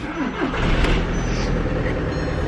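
A used car bought at auction idles with a steady low engine rumble, close and continuous throughout, with no talk over it.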